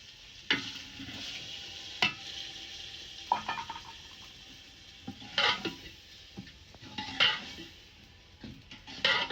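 Oil sizzles steadily in a pan as tempering for cooked greens, with a few sharp metallic scrapes and clinks of a utensil stirring at irregular moments; no one speaks.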